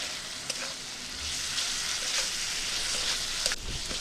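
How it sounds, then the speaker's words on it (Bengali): Masala with Kashmiri chili powder frying steadily in a pan for Bengali sorshe tilapia, a continuous soft sizzle with a few faint stirring scrapes, close and alone. "মশলাটা ভালো করে কষিয়ে নেব।"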